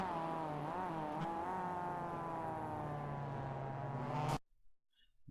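Race cars roar steadily through the final turn at Laguna Seca, engines droning with shifting pitch for about four seconds before cutting off abruptly to near silence.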